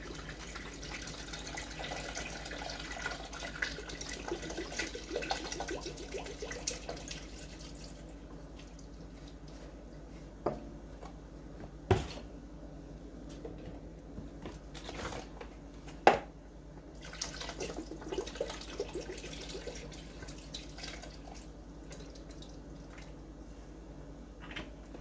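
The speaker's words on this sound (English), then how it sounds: "Now we'll rinse those out with water and dump the water right in this pot." Tap water runs and splashes while containers are rinsed out and poured into a soup pot of vegetable soup, a steady gentle flow broken by a few clinks and drips, quiet and close.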